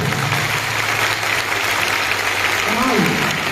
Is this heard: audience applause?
yes